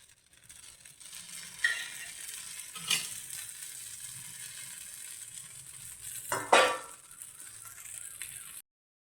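Wheat flour egg dosa frying in oil on a pan, a soft continuous sizzle with a couple of louder bursts as it is flipped and more oil goes in, quiet and close with no talking.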